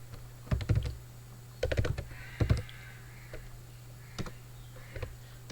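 Quick bursts of keystrokes on a computer keyboard while code is typed, clustered clicks with short pauses between them, close and clear.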